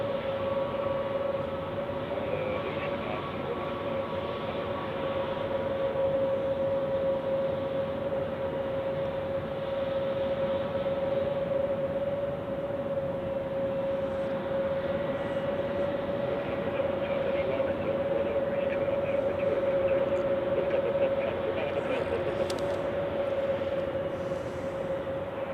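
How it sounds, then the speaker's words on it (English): Lufthansa Airbus A319 on the runway at Zurich Airport in winter, a steady distant engine roar with a constant whining tone, unchanging throughout. "The Lufthansa A319 to Munich on the runway."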